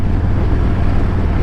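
Wind roars in a steady, loud rush of buffeting around a rider on a Harley-Davidson Road Glide Special cruising at speed, with no other sounds heard.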